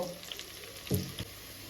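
Quiet frying of onion and potato in a pan: a soft, steady sizzle with a couple of light stirring scrapes, no talking.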